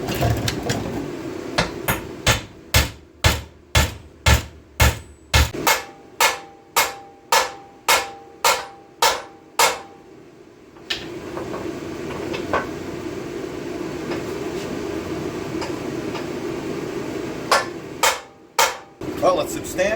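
Repeated heavy hammer blows drive the U-joint caps out of a 1998 Dodge Dakota driveline, about fifteen sharp, evenly paced metallic strikes up close, then a pause with background noise and a few final hits.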